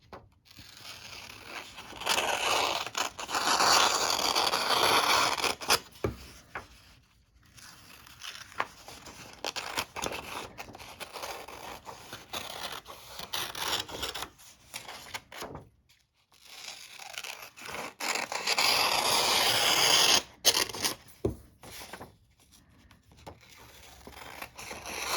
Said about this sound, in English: So let me get my scissors. We're just gonna cut on these lines